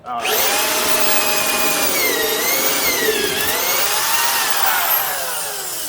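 A power drill fitted with an Irwin adjustable wood bit bores through a piece of wood, a loud continuous whine rising and falling in pitch as the bit bites, steady for about five seconds before easing off.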